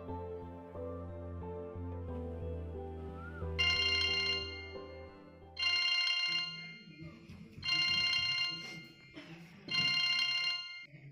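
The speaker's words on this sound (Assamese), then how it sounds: "ফোন এটাকে কচোন। মই ফোন কৰিছোঁ ৰ।" Telephone ringtone on a call being placed, repeating in four regular bursts with gaps, clear and fairly loud after a stretch of background music at the start.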